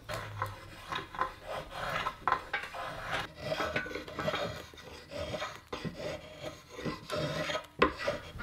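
Steady rasping and filing on a Pacific yew bow stave as its thick sapwood is thinned down for a recurve self bow, a close, continuous run of scratchy strokes with an uneven rhythm and no talking.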